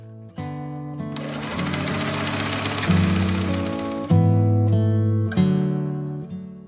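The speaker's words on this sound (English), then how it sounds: "I'm just going around again with a zigzag stitch." A sewing machine runs a zigzag stitch around a cloth menstrual pad, its needle motor whirring in loud, close bursts that start, speed up and briefly pause between runs, with no voices.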